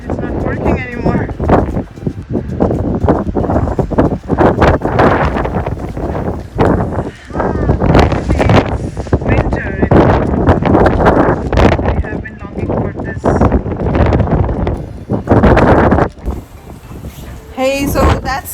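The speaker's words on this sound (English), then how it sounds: "It's so windy outside" Strong wind blows through a Canadian winter snowstorm, buffeting the microphone with loud, gusty roaring that rises and falls, with a voice talking over parts of it.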